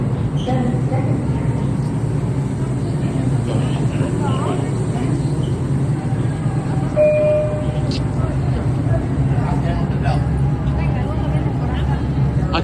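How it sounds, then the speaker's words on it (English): A Bronx-bound 2 express train on the NYC subway pulls into Times Square–42nd Street station as a steady, loud low rumble and rolling roar, with faint high screeches, under a busy platform where people talk. "This is a Bronx Bank Express train."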